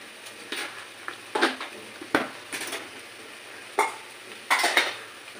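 Cashew-paste curry being stirred in a wok, a utensil scraping and clinking against the metal in several separate bursts with quiet pauses between, fairly soft and close, with no talking.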